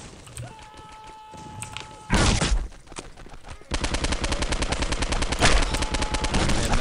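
Video game gunfire comes as a sharp burst, then a long, dense run of rapid automatic shots with thuds and a steady background rumble.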